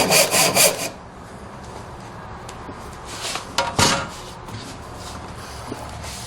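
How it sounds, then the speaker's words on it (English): A regular crosscut saw widens a groove in a wooden board for a rustic stool, giving a few quick rasping strokes at the start, then quieter scraping and a couple of sharper knocks, close by with no talk. "Now I'm just going to take a regular crosscut saw and make that groove a little bit wider so that it can take the wedge."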